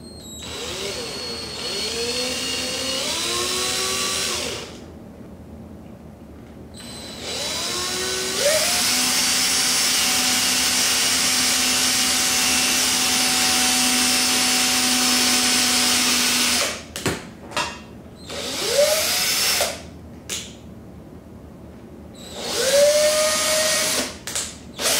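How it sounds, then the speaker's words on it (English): A power drill whines in several bursts while boring into an acoustic guitar body for an end pin, rising in pitch as it spins up, with one long steady run in the middle and short stops between. "When you drill into the instrument, you wanna make sure that you're going in straight."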